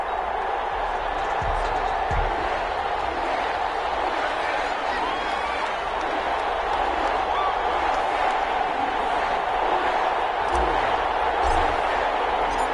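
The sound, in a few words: stadium crowd in an EA Sports football video game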